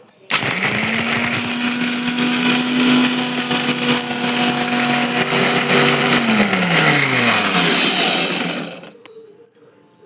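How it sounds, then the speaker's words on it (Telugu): A kitchen mixer grinder whirs loudly and steadily as it coarsely grinds peanuts, running for several seconds before winding down and stopping. "మిక్సీ అయితే పట్టేసుకుందాం"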